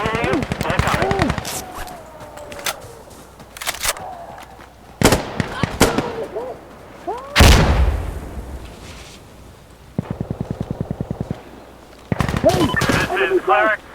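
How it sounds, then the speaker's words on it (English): Minigun air support fires in the game Insurgency Sandstorm, with long rattling bursts of rapid fire, sharp shots and distant blasts mixed with radio voices talking between the volleys. "Some minigun support has been started."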